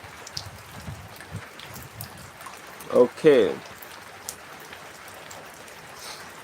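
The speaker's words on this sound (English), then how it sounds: "It is raining. It has been raining for over 6 hours now." Steady rain falls continuously in the background, a soft wash of patter with scattered drops, while a person speaks briefly partway through.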